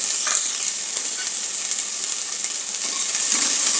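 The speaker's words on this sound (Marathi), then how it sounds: "त्याचबरोबर कांदा घेते" Chopped onion fries in two or three spoons of oil inside a pressure cooker, a loud continuous sizzling hiss close by with no talking.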